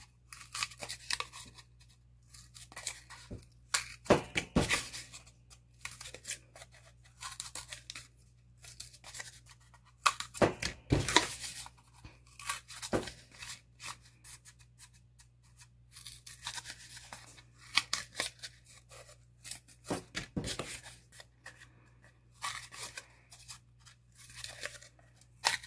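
Scissors or a blade snip and crunch through cardboard to cut a slot, in scattered bursts of cutting separated by quiet pauses, close and fairly faint.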